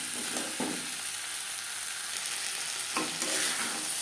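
Potatoes and spices being stirred in a hot pan for a vegetarian aloo dum, with a steady sizzle and occasional scraping strokes of the spoon, close and continuous with no talking.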